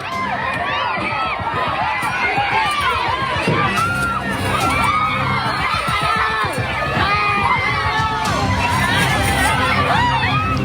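Panicked screaming and shouting from a crowd of angry residents as a driver is dragged from a minibus, a loud, continuous mix of overlapping yells and cries with no break.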